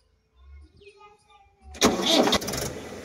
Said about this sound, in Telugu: బండి అయితే స్టార్ట్ చేసినాం, పొగనైతే బయటకైతే ఏం వెళ్తలేదు, సౌండ్ కూడా చేంజ్ అయిపోయింది